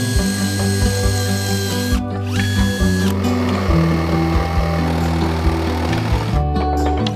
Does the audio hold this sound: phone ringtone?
no